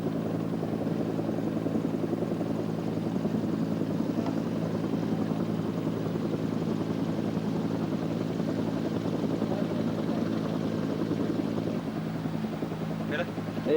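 Australian Black Hawk helicopters at an airfield runway in East Timor give off a low, continuous rotor and engine drone that stays even throughout, with a voice speaking over it.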